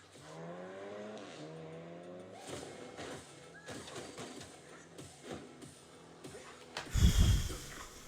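A big car's engine revs and changes pitch as it drives past, ending in a loud burst of acceleration or tire noise near the end, with no talk.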